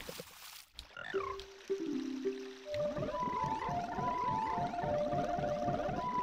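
Frogs in the Zelda Ocarina of Time video game croak in a rapid run of rising chirps along with an ocarina melody, which begins as a few sustained notes and then forms a busy, bright, bubbling pattern.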